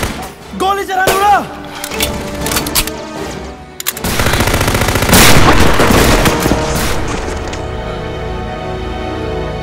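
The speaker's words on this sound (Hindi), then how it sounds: "गोली चला नूरा।" Rifle gunfire in a war movie scene set where Chinese soldiers are near: after brief voices and scattered sounds, a loud burst of rapid shots erupts, followed by continued firing and a ringing background.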